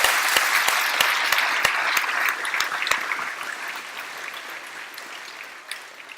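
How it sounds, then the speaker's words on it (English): A crowd at an 8th grade graduation claps steadily, the applause dense at first and then gradually thinning and fading away. "One more round of applause, please."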